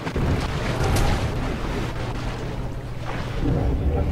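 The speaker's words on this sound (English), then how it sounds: "As you kind of dart through the water." A character darts underwater in the Guild Wars 2 game, a dense rushing, bubbling water surge with low rumbling swells, loud and steady throughout without speech.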